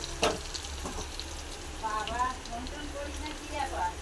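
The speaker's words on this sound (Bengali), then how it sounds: "আমার আলুটা ভাজা হয়ে গেছে, আলুটা লাল লাল হয়ে গেছে" Potatoes fry in a pan for an aloo dum, a soft continuous sizzle and crackle heard close, with a sharp clink near the start and faint background sounds.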